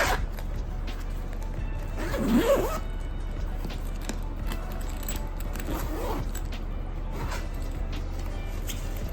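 A zipper is drawn on a maternity hospital bag, with short rasping pulls near the start and again later, low under steady background noise.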